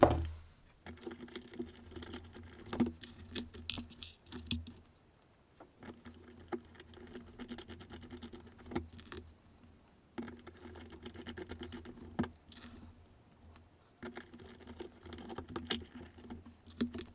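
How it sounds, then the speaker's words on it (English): Small metal lock pins patter and tick as they drop into the chambers of a professional lock pinning block, faint clusters of light clicks separated by short pauses. "The pins are dropped in, so the rest should easily fall in"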